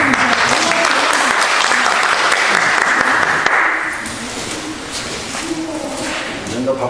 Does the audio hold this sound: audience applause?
yes